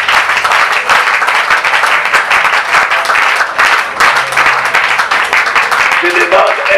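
A church congregation breaks into loud, sustained applause and cheering that fills the room, dense and continuous, with voices calling out over the clapping.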